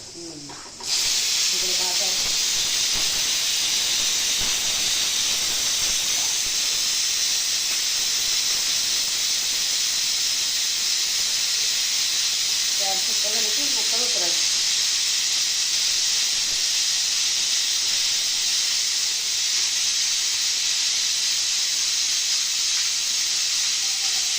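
Steady, loud hiss of escaping steam from a pressure cooker cooking potatoes and lentils runs continuously through the whole stretch, with faint brief voices briefly audible underneath.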